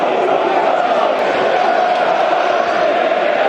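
A roaring football crowd at a Millwall home match against Luton Town, a dense, continuous wash of voices and shouting that fills the stands without a break.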